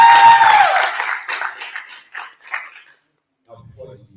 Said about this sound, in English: So together, let's clap for them.